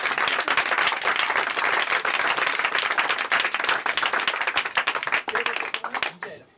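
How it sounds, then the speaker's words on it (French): An audience at a magic show applauds loudly, thick sustained clapping throughout that cuts off abruptly at the end. "pendant qu'on l'applaudit très fort"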